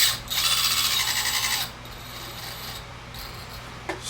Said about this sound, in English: Motor's running.